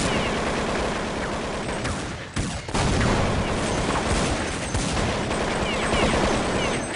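Sustained automatic gunfire sprays in rapid bursts during a competitive Counter-Strike match on de_nuke, firing down through the ramp; loud and dense throughout, with only a brief dip near the middle and no talk over it.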